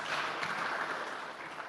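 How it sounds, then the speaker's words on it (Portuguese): An audience at a CSIRT training event in Mozambique claps together, a brief, even burst of applause close and steady throughout. "uma salva de palmas para nós"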